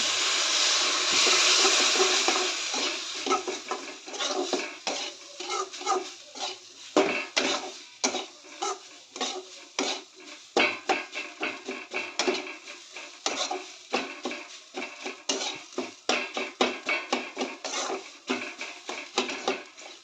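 Semolina stirred in a metal pan with a spoon, a dense run of scraping and clinking strokes, brisk and rhythmic, close and loud, with a soft hiss early on and no voices.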